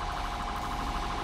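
A police car siren in GTA 5 wails continuously at close range, loud and steady with a fast warbling pulse, filling the whole short moment alone.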